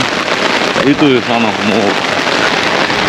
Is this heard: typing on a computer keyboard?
no